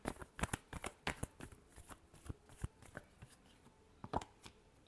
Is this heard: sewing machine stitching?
no